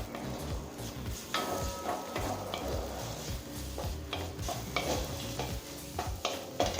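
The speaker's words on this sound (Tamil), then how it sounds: "இப்போ மாங்காயை பச்சை வாசனை போக நல்லா வதக்கியாச்சுங்க" Raw mango pieces sauté in hot oil in a pan while being cooking for mango rice, a steady close sizzle broken by repeated scraping stirs and light clanks of the spoon against the pan.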